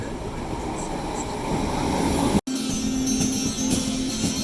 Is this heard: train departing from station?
yes